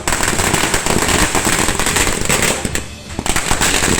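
Firecrackers burst in rapid, dense strings at a Congress workers' victory celebration in Chelakkara. The loud, continuous crackling barely pauses around the third second before surging again.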